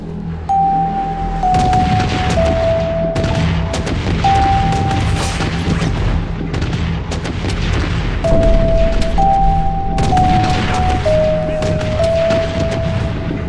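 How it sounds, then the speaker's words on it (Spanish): Air strike bombardment in the shooter game Bloodstrike: a dense, continuous barrage of loud booms and crashing explosions with overlapping gunfire, layered with steady electronic tones, loud and close throughout. "Solicita un bombardeo aéreo."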